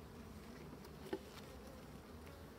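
A honeybee colony at an opened hive gives a steady, dense buzzing hum throughout, with a brief louder burst as a bee passes close by. No speech is heard.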